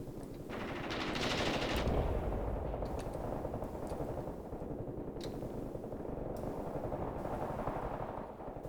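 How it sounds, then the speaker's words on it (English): Sustained machine gun fire from Graviteam Tactics, a dense, continuous rattle of rapid shots swelling early and then holding steady, with distant artillery-like thumps mixed into the battlefield din. "The machine guns should soon be suppressed."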